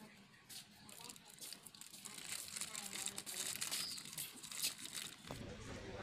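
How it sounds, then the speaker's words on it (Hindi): Plastic wrapping crinkles and rustles as connection wires are bundled and tied inside a washing machine during a spin coupling repair, close, irregular crackling that grows busier and louder partway through. "अब इसके हम कनेक्शन वायर को फिर एक पन्नी में करके अच्छी तरीके से बांध दे रहे हैं"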